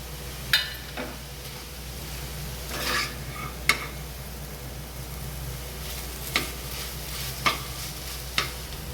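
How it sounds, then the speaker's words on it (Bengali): Drained chow mein noodles and fried prawns are stirred in a hot pan for lemon butter prawn noodles, with a steady low sizzle under scattered scraping and tapping of the utensil against the pan, close and without speech. "এবার দিয়ে দিচ্ছি জল ঝরিয়ে রাখা চাউমিনটা। দিয়ে দিচ্ছি ভেজে রাখা চিংড়িগুলো।"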